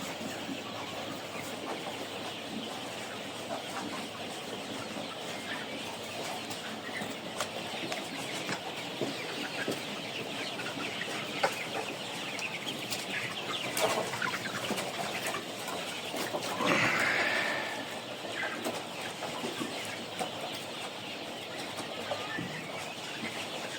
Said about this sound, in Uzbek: Orozlari qichqirishdi.